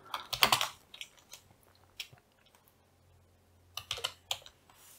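Keys clatter on a computer keyboard as code is typed for an LCD temperature-sensor project: a dense burst of close clicks, then scattered single taps and a short pause before another quick flurry of keystrokes.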